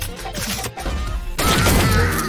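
Gunfire in the egg-themed shooter game Shell Shockers, loud bursts of rapid shots and impacts crowding a dense, noisy mix that swells louder in the second half.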